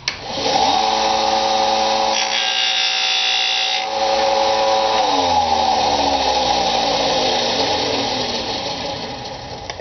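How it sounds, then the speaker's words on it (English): Power sander grinding down the edge of a glass or acrylic panel for a DIY reef tank sump, a loud steady whine running close and continuous with shifting pitch throughout, no speech. "so I'll just sand a little bit off of that end."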